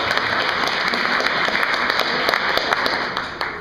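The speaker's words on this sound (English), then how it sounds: "Let's give him a big round of applause." An audience applauds steadily, a dense close patter of many clapping hands at a talk, with no voices over it, tapering slightly at the end.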